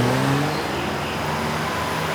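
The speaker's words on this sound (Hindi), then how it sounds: "गाड़ी की आवाज।" A car engine drones steadily and fairly close, with a rising revving tone at the start that settles into a continuous hum. No one speaks.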